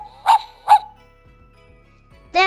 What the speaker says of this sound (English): He called his dog Max.